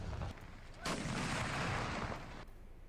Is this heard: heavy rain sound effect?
no